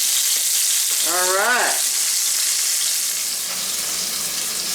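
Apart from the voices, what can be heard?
pork chops browning in a hot pan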